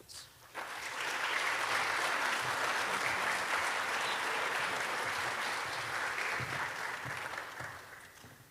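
Sustained audience applause fills a room at a college Founders Day event, rising quickly after a brief pause and holding steady and loud for several seconds with no talking over it.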